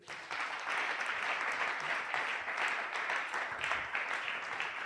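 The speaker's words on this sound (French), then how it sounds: "Est-ce qu'on peut acclamer très fort?" A church congregation at a Sunday thanksgiving and praise service bursts into loud, sustained applause, a dense wash of clapping that fills the room steadily for the whole stretch with no talk over it.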